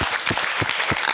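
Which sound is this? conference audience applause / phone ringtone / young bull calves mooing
conference audience applause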